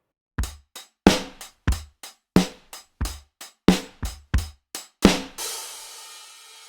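A sparse, unprocessed lo-fi drum loop from Addictive Drums 2 of punchy kicks and crisp snare-like hits in a steady groove, ending on a sustained washy cymbal tail.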